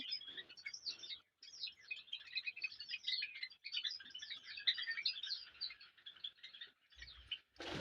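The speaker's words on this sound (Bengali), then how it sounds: "এই দিকটা আমার এখনও অনেক পাখি রয়েছে এখানে টোটাল চারটা কলোনি রয়েছে" Dense, continuous chirping and twittering from a colony of Java sparrows, a busy high-pitched chatter that carries on steadily, ending with a brief low thump.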